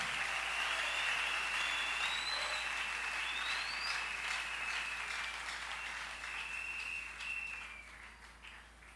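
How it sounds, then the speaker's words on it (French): An audience at a prayer service applauds in a sustained, dense wash of clapping that slowly thins toward the end, with a high whistling tone riding above it. "Acclame plus fort."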